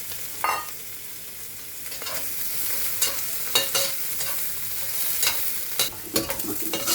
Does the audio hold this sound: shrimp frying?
yes